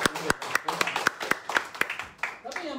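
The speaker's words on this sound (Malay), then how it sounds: "Berikan tepuk tangan sekali." An audience at a business marketplace presentation claps together in a quick, even rhythm, with about a dozen sharp claps landing in unison at moderate volume before they stop.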